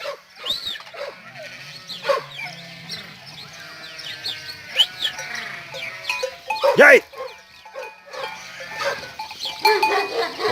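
Several sheep bleat at intervals amid outdoor background noise, with a few calls rising louder near the middle.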